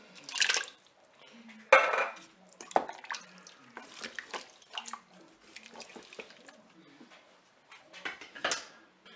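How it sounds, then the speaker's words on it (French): Peeled tomatoes go into a Cookeo pressure cooker pot with wet splats, drips and light clanks of utensil against the pot, coming in short, close bursts separated by quiet gaps. "On va aussi ajouter les tomates pelées"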